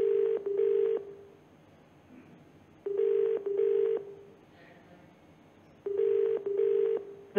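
An outgoing telephone call rings unanswered: three repeated double ring-back tones at steady intervals, clear and fairly loud, with quiet gaps between.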